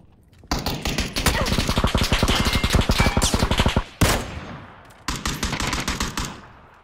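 Gunfire in the game PUBG: a long, rapid automatic burst of closely spaced loud shots, then a single sharp report and another quick burst, heard up close.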